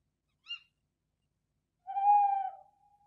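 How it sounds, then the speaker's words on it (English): An owl hoots close by, one short call followed after a pause by a longer, drawn-out hoot that trails off, with nothing else around it and no talking. "So there's the owl."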